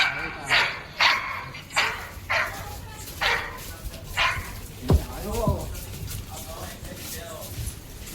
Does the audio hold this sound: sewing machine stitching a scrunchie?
no